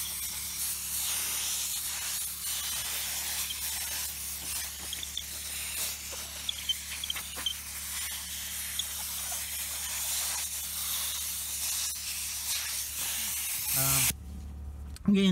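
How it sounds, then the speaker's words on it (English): A steady, loud hiss of compressed air from an air compressor blowing out an air filter, continuous for over ten seconds, with faint clicks underneath, ending abruptly. "I can blow that out with the air compressor"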